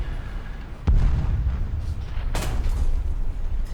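Tank gunfire from the War Thunder game hits the player's tank from the side: a sharp heavy blast followed by a second loud boom over a low rumbling engine drone.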